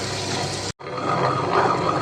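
A loud, steady mechanical whir of a wet grinder churning urad dal without water, briefly cut off for a split second before resuming at full volume.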